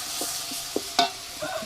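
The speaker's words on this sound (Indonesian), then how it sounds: "Kita goreng nih sambal yang udah kita haluskan." Ground chili sambal paste frying and being stirred in a pan, a steady broad sizzle with a few sharper scrapes and clinks of the spatula, close and fairly loud.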